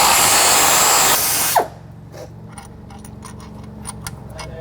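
A power tool spins off supercharger install bolts on a Jeep JKU, a loud steady whine for over a second that cuts off abruptly, followed by quieter clicks and handling noises.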